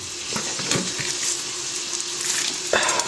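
Chuck roast sizzles steadily in a hot pan, a constant crackling hiss with a few clinks and scrapes of a utensil against the pan.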